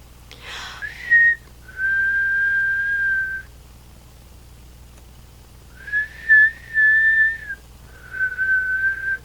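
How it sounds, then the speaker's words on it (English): A person whistles a few sustained notes alone, near and clear, with short pauses between phrases in a quiet room. "Can you whistle? I can, but I haven't done it in forever."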